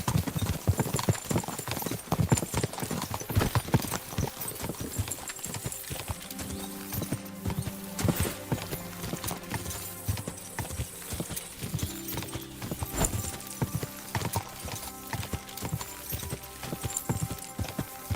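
Horse hooves gallop in a steady clip-clop rhythm across a Kingdom Come Deliverance 2 game world, loud and continuous with game ambience and music tones underneath.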